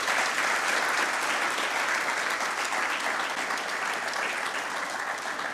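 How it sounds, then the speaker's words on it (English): A steady wash of audience applause follows the finals of a school debating competition, sustained and fairly loud with no break. "Let's give them a round of applause."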